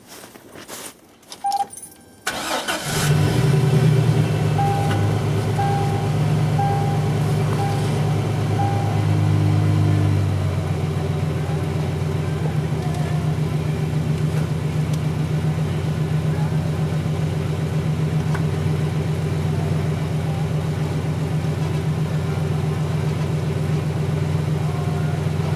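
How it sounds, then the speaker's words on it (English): 2003 Chevrolet Silverado pickup: a few clicks and a short cranking burst give way to the engine catching with a brief raised rev, then settling into a steady low idle hum that continues evenly to the end. "we'll just start up the old truck here"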